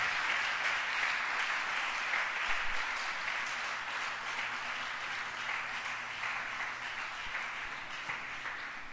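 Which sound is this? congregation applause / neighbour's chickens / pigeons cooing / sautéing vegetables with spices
congregation applause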